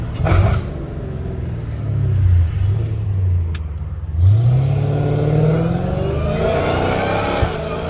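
A Dodge Hellcat Redeye engine revs hard, its deep supercharged rumble rising and falling through several loud throttle blips, close and powerful, with a brief lull before it climbs again.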